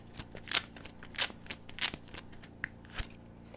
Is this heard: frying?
no